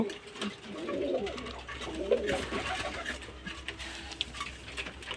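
Pigeons coo at feeding time, a soft, low, rolling burble that carries on steadily throughout with a few faint ticks and clicks mixed in.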